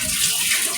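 Water runs steadily from a kitchen faucet in a home, a close, hissing rush that continues without pause through the brief moment.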